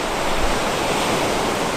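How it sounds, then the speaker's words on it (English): Sea waves wash continuously at the shore by Castello di Santa Severa, a dense steady roar of surf with some wind, no voices. "We are at the sea."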